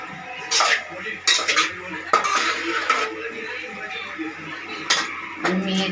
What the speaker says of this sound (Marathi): कोथिंबीर घालून हलवून घेऊया